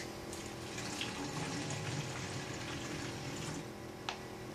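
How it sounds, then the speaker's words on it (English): Water poured from a glass into another container during a child conservation task, a soft continuous trickle and splash at low level with faint background noise. "Now I'm going to take my glass and I'm going to pour it in here."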